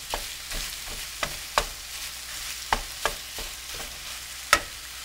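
Ground turkey with onions, mushrooms and zucchini sizzling softly in a pan, broken up by a spatula in repeated scraping strokes that give sharp clacks every half second or so.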